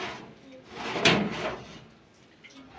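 An oven door thuds shut once over Syrian maamoul pastries proofing on the upper rack above a tray of steaming boiling water, the sharp close rising from a soft shuffling background.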